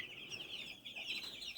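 Young chicks peep in a continuous high chorus of overlapping chirps, faint and close-by, with no talking.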